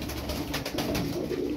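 A tumbler pigeon cooing close by, low throaty repeated coos in a steady rolling pattern over light background noise.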